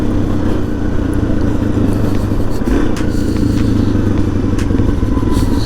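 A supermoto motorcycle rides along the coast, its engine droning loud and steady with wind rush and faint clatter throughout, no talking.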